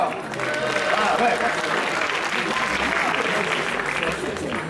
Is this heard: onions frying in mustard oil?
no